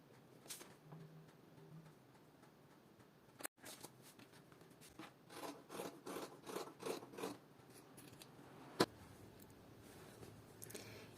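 Scissors cutting a fabric circle for a fabric jewelry box, heard as a quick series of soft snipping and rustling crunches in the middle, faint and close, with a sharp click before and another near the end.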